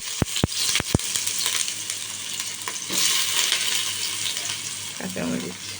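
Garlic and onion go into hot ghee for vegetable khichuri: a few sharp clicks open the clip, then a steady, fairly loud frying hiss builds with soft clattering near the end.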